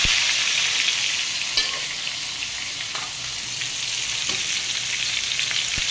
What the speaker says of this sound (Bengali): শুধু করলা ভাজি দিয়ে কিন্তু সকালবেলা ভাত খেয়ে নিতে পারবেন, যদি এরকম করে একটু বেশি করে তেল দিয়ে ভাজেন।